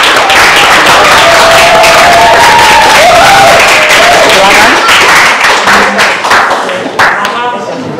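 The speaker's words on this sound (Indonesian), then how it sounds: "Kita kasih tepuk tangan yang luar biasa untuk kelompok 1" A classroom claps loudly and close for the first presenting group, crisp uneven hand claps with a few thumps and light cheering, while voices talk over it before the clapping thins out.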